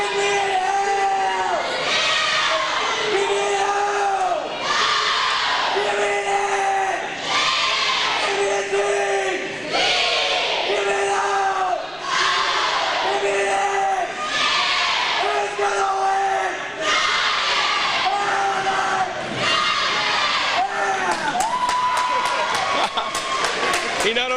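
A gym crowd at a high school basketball game roars and chants in repeated rising swells, loud and close, with a voice calling out over the noise in rhythmic bursts.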